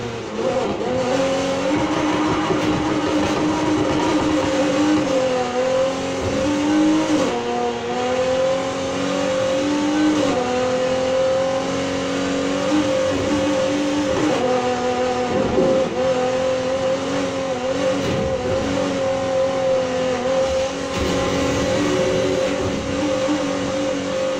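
A 1977 Pontiac Firebird's racing engine in Need for Speed Heat drones loud and close, a steady high rev with gear-shift dips and occasional tire noise, running continuously with no talk over it.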